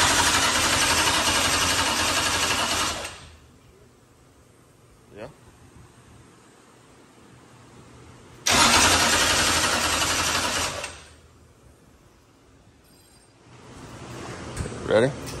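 A Jay Dickens power plant engine started for the first time gives two loud, rough bursts of running, each lasting a few seconds, separated by near silence, with voices faintly heard between them.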